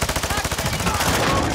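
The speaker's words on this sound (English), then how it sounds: "somebody else is shooting at him" Rapid automatic gunfire in the video game Call of Duty: Modern Warfare II, a dense stream of shots at a steady rhythm that runs through the whole moment, close and loud with nobody talking.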